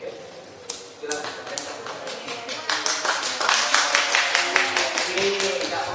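People in an Indonesian courtroom break into applause, first scattered claps, then a swelling, fairly close round of rhythmic clapping from a crowd that lasts several seconds, with faint voices mixed in.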